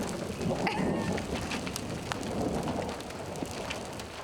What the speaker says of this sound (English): Never did I expect hail.